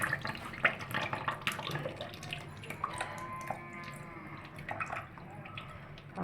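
Hot water splashing and dripping while something is rinsed clean in a kitchen, a steady busy wash of running water with scattered drips, close and moderately quiet.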